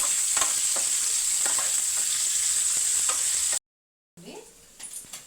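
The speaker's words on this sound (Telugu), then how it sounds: "ఫ్రై చేస్తున్నాం పాన్ మీద ఫ్రై చేస్తున్నాం" Curry oil sizzling loudly in a pan with stirring, for a drumstick and dried fish curry; a continuous hissing fry for a few seconds, a sudden cut, then quieter clinks and stirring.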